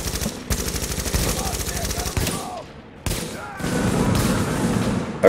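Gunfire rattles in The Division video game, with loud close bursts of automatic fire broken by short gaps, and heavy sustained shooting near the end.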